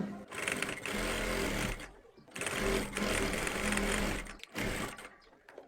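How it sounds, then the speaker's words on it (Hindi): A sewing machine stitches fabric for a collar in bursts of rapid mechanical whirring, pausing briefly between runs, close and fairly loud. "हमने इसके ऊपर यहाँ से एक पैर की सिलाई लगानी है"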